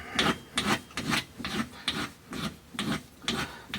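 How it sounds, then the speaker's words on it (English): A hand file rasps rhythmically across the arm of a Soma Porter bike rack, rounding off its end, with seven or eight steady back-and-forth strokes at close range and no talk. "If I had a coarser file, this would go a little faster."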